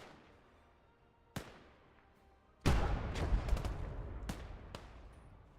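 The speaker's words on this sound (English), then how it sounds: "Enemy artillery!" Enemy artillery fire in a war video game: a sharp distant crack, then a sudden heavy blast that rumbles on, with several more sharp reports cracking through the lingering roar.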